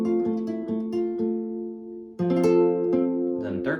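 Fingerpicked guitar notes from a piece from Jujutsu Kaisen, a repeating pattern as the second finger lifts off and presses back on, close and clear, with a shift to a new note group midway.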